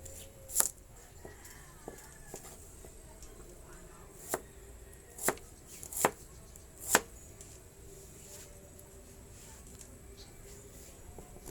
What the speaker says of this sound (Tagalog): mag-iwa tayo ng sibuyas saka bawang